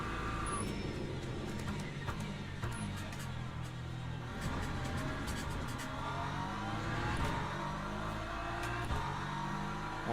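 An LMP2 prototype race car engine approaches from behind in a Sebring endurance racing video game, a steady, fairly loud engine drone running throughout over continuous track and car noise.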